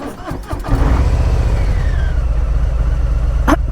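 A Harley-Davidson Low Rider S motorcycle engine starts up and settles into a steady, loud idle with a low, rapid chugging rumble, close by.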